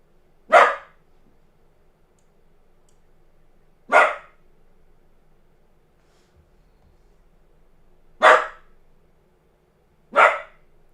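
A dog barks four times, single sharp barks spaced a few seconds apart, fairly close and loud over a quiet indoor background with no talking.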